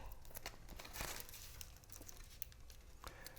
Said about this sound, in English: I'm just taping this down like so